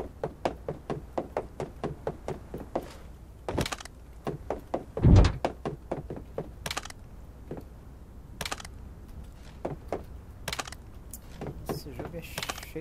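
Doors opening in the video game Badlanders, with a run of sharp mechanical clicks and knocks, one heavier thunk near the middle and sparse clicks afterward, all close and fairly quiet.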